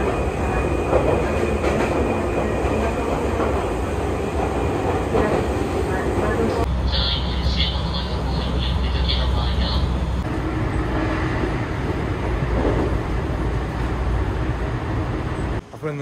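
Steady, loud rumbling inside a moving train in Japan, a continuous roar of wheels and carriage noise that shifts in tone partway through.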